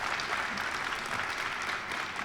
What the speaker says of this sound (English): what a clap for my birthday!